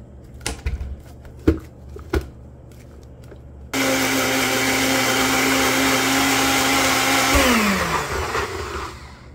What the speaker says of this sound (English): and garlic also, and half of the lime and blend.